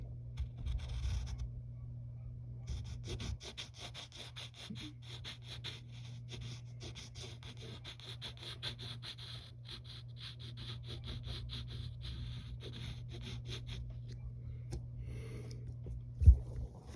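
Pencil drawing a cartoon figure's body on paper, soft faint scratchy strokes in quick repeated bursts with brief pauses over a low steady room hum.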